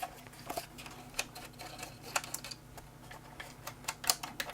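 Keys clack on the small keyboard of a Toshiba Libretto 70CT mini laptop resting on its angled port replicator, sharp uneven taps in quick bursts with short pauses, close and clear with no talk.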